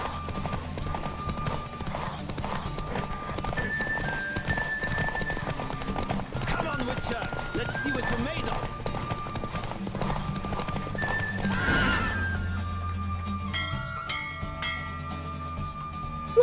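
A horse races in The Witcher 3, steady hoofbeats drumming under game music with whinnies mixed in, while a voice speaks over parts of it.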